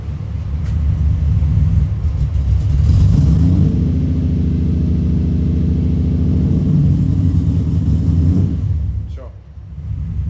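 Engine of an old drift car with a roughly 28- to 30-year-old motor, idling loud and close in a steady low rumble with a brief swell in revs, dropping off near the end.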